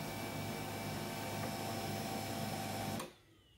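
An HP LaserJet P1102 laser printer runs a test print with a steady mechanical whir and hum for about three seconds, then stops abruptly into near silence.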